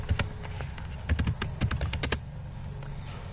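Steady typing on a computer keyboard while entering Cisco Packet Tracer router configuration commands: a close, brisk run of crisp keystroke clicks with an irregular rhythm and no voices.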